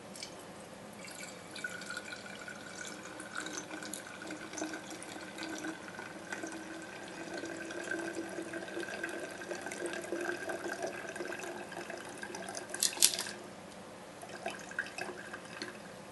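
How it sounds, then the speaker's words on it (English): Leaching solution for iodine gold extraction from transistors is decanted from a container back into a flask, giving a soft, steady trickle and drip of liquid throughout, with a brief louder splash near the end. "the leaching solution is decanted back into the flask."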